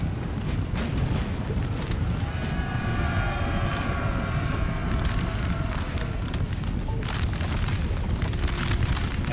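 Artillery fire in the Napoleon: Total War battle game, a dense continuous rumble of booming cannon and battle noise with wind-like roar throughout, loud and sustained with no clear individual shots.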